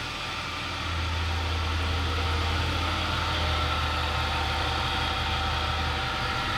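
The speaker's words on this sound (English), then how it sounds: "I don't like the way this one's sounding. Sounds like a belt or a pulley's bad." A Dodge Challenger SRT-8 engine idles steadily and fairly loud, with a constant low rumble and a whining, chattering undertone hinting at a bad belt or pulley, alone with no talk.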